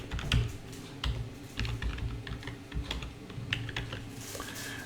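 Rapid, irregular clicking of keys on a computer keyboard as a password is typed, close and clear with no talking, keystrokes coming in quick bursts throughout.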